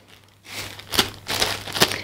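A zip-lock plastic bag handled up close while potting violets, a short burst of crinkling followed by two sharper crackling rustles, clear and near with no talk.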